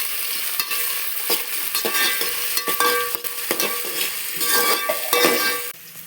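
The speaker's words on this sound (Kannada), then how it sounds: "ಹೀಗೆ ಹಾಕಿ ನಾವು ಇದಕ್ಕೆ ಫ್ರೈ ಮಾಡಿಕೊಳ್ಳೋಣ" Shavige vermicelli fries and is stirred in a pan, making a steady sizzle with repeated scraping strokes of the spoon against the metal, close and fairly loud with no talk.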